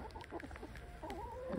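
Faint clucking from a few chickens, a cross between black and red birds, on a farm: soft, short, irregular calls over a low background hum.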